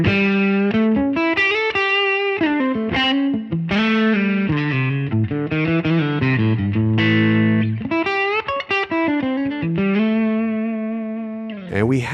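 Electric guitar played through a ToneX amp model with light compression, a noise gate and reverb, heard as a loud, sustained run of single notes and chords with a clean, polished distorted tone and no voices.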